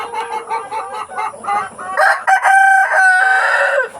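Rhode Island Red chickens on a farm cluck in quick repeated bursts close by, then a rooster lets out a loud drawn-out crow over the continuing hen chatter, with no talking.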